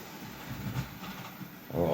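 A model train runs along its track with a steady whirring rumble, briefly louder at the end.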